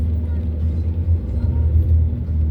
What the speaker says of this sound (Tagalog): Ang dami tricycle dito guys.